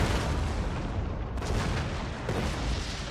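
Shrapnel artillery fire in the Fall of the Samurai strategy game, dense continuous rumbling barrage with booms and bursts layered together, loud and unbroken, no speech.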